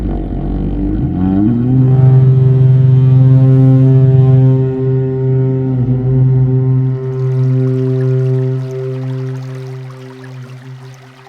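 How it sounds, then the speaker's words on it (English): The Horn of Cenarius in Warcraft III Reforged blows one long, loud, deep sustained note, rising at first, then holding steady for several seconds before fading under a soft rushing wash. "At last, the horn of Cenarius."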